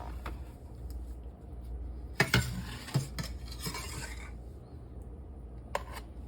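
A ladle scrapes and clinks against a pot while sauce goes into baked mostaccioli pasta, giving a few sharp metallic knocks over a low steady background hum, close and moderately quiet, with no talking.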